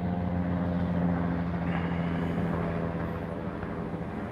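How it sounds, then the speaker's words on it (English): Helicopter passing overhead outdoors, a steady low rotor and engine drone that holds loud through the moment and eases slightly toward the end, with no talk. "Helicopter above."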